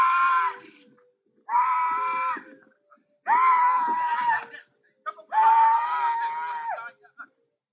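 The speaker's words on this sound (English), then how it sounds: "a man, who is lying with them in the background, thrashing and screaming at the top of his lungs" A man wails and screams at the top of his lungs among dead cattle, four long anguished cries with short gaps between them, loud and close, rising in intensity.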